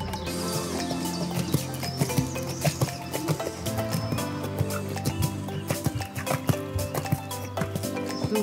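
Hooves thud in an irregular rhythm on the soft ground of a warm-up arena at a horse show, mixed with music and busy background noise, fairly loud and close.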